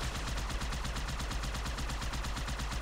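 Rapid gunfire from a Halo 2 firefight, a dense continuous barrage of repeated shots across the whole moment, loud and close with no pauses.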